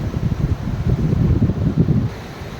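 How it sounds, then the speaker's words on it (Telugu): Waves break and wash up on Antarvedi Beach in Andhra Pradesh, a low surging rumble rising and falling with gusty wind buffeting close to the microphone. "మొత్తం ఈ వేవ్స్ అంటే వస్తుంది కాబట్టి నాయిస్ ఎక్కువ వస్తుంది."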